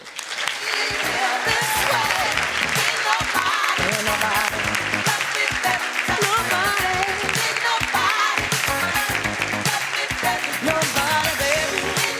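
A conference audience at an Influential Women in Business event gives sustained applause as a speaker is introduced, thick, steady clapping from many hands with a few voices mixed in, filling the room throughout.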